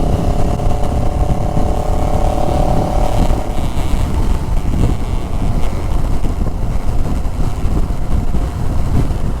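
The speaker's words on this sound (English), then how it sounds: "I'm having fun riding this quirky Chinese motorcycle." A CFMoto CLX 700 motorcycle cruising at steady speed, its engine drone continuous and loud under heavy wind rush, with a slight tonal shift partway through as the ride goes on.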